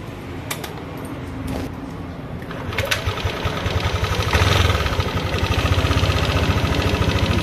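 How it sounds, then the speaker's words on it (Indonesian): Yamaha Aerox scooter being started with its electric starter, a brief whirring crank followed by the engine catching and running with a steady, close mechanical putter that grows louder toward the end. "saya coba sekali lagi starter"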